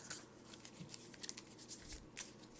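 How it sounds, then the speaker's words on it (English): A deck of Pokemon trading cards being cut and shuffled by hand, with soft, quiet riffling and crisp card snaps in quick, irregular bursts, close up. "Now we need to shuffle, so I'm going to just cut my deck a few times like so"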